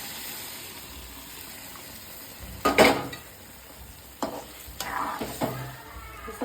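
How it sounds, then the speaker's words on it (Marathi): Mashed vegetables for pav bhaji sizzling in oil in a pan, a soft steady fry punctuated by several louder scraping stirs of a spoon against the pan, close and with no talk. "सगळं मिक्स करून घेऊया आपण."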